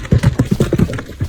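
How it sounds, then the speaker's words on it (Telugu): A horse gallops during a forest hunt after a deer, its hooves striking in a quick, close, loud clip-clop rhythm of rapid beats with no voices over them. "యువరాజు తన గుర్రం మీద వేగంగా పరిగెత్తించాడు."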